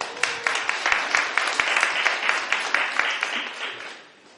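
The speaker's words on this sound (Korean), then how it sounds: "이렇게 토론해주신 이종훈 시장님한테 박수 한번 보내주시기 바랍니다" An audience at a public debate forum applauds the mayor, with lively clapping and sharp individual claps in front, running strong for about three and a half seconds before tapering off.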